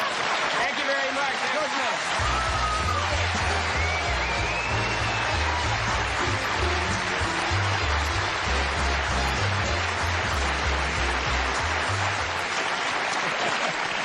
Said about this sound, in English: They were applauding a lot.